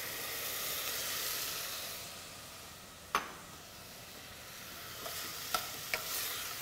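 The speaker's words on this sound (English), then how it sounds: "So at this point, I'm going to introduce coconut milk in here. So coconut milk goes in." Coconut milk goes into a pan of sizzling aromatics for jicama shrimp tacos. A steady frying hiss fades, and a few sharp clinks and stirring taps come near the end.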